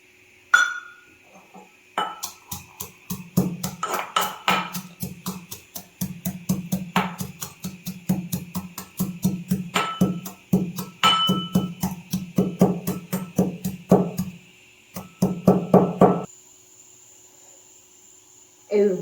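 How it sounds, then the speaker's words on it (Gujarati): Repeated pounding in a stone mortar and pestle while crushing spices coarsely for aloo paratha in a village kitchen: a steady rhythmic run of sharp, close thuds and clinks, with brief pauses between bursts. "હવે આને ખાંડણીમાં ખાંડી લઈશું."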